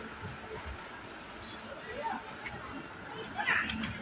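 Brindavan Express train pulling into KSR Bengaluru City Junction, with a steady rumble of rolling stock, a thin sustained high wheel squeal and brief metallic screeches near the end, heard from on board at moderate level.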